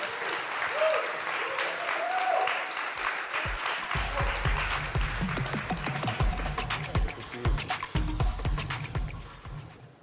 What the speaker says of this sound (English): give a round of applause to CZ, the CEO of Binance